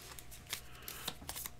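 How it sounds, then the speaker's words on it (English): Maracaibo board game cards are riffled and shuffled up close, a few quick crisp bursts in a quiet room. "A's, B's, and C's and give them a good shuffle."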